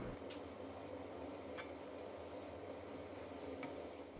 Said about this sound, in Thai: แล้วก็คั่วเห็ดนางฟ้าของเราจนสุกแห้งนะครับ